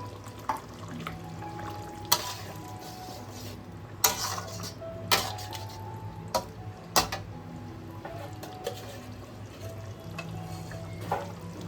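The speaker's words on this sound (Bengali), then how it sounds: "এবার আমি ভেজে রাখা পটলটা মিলিয়ে দিচ্ছি।" Fried pointed gourd being stirred into boiled potatoes in a wok with oil, scattered spoon scrapes and clinks against the pan over a soft, steady sizzle.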